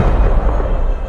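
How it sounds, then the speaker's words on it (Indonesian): A massive explosion in an audio story, as a giant centipede blows apart in midair like a biological bomb: a loud, dense low-frequency roar that booms continuously through the short moment. "Sebuah ledakan dahsyat menggetarkan udara."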